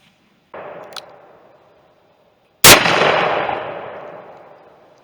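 Two loud gunshots from a 454 Casull revolver firing hollow points at pumpkins outdoors, a softer first report then a sharp, much louder blast whose rumbling echo decays over two seconds.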